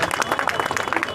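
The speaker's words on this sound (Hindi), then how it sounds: "स्वागत के क्रम में आपकी तालियों का भी स्वागत है" Applause from an audience at a stage event welcoming a guest, a steady dense clapping that is loud and close, with talk mixed in.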